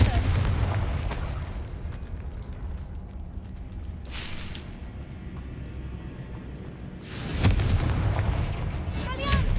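Spell blasts in the Hogwarts Legacy video game, with several loud booming bursts over a dense rumbling battle backdrop and a heavy impact near the end.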